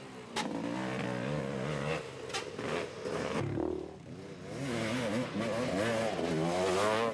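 ATV engines racing at a 2002 GNCC cross-country event at Loretta Lynn's, buzzing and revving steadily with rising and falling pitch, close and loud throughout, under a race commentator's voice.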